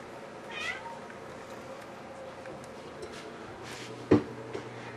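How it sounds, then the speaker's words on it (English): A cat meows in a kitchen where shredded chicken is being made. A faint early meow is followed later by one brief, clearer meow over low room noise. "And there's a cat waiting for his stuff."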